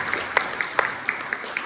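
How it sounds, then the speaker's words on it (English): An audience at a school jazz band winter concert gives a short round of applause. Scattered, sparse claps sound moderately close for under two seconds. "Can we give her a round of applause?"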